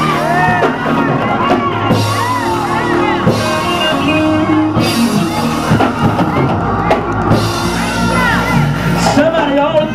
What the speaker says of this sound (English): Clap your hands and tell the Lord thank you